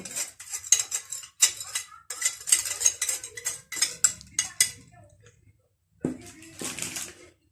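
A spoon stirs cake batter with cocoa and vanilla in a bowl, making rapid, close scraping clinks in quick bursts, pausing briefly before a final few strokes.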